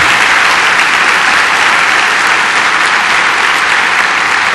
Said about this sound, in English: we need to give all of these young people a warm round of applause